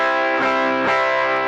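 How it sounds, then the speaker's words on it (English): A Squier electric guitar rings out with its neck and bridge pickups wired in parallel, two strummed chords sustaining bright and close, with a slightly effected, buzzy edge and no talking. "So then the next position is my neck and bridge, which you don't get and this is them in parallel"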